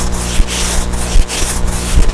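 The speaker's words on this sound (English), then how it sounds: "If I just keep sanding, it'll go away, right?" Close, loud power sanding on a boat, the motor humming continuously while the pad rasps in regular back-and-forth strokes with a few sharper bumps.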